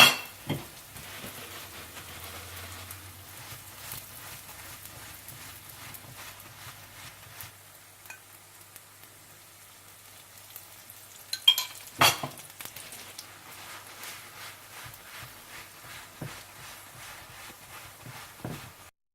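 An egg paratha fries in butter or oil in a pan with a faint, steady sizzle, broken by a few sharp clatters and scrapes of the pan, close by and without speech.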